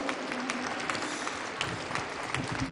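Crowd of faithful applauding Pope Francis at St Peter's Square after Palm Sunday Mass, sustained dense clapping from many hands, fairly distant, continuing steadily before it cuts off at the end.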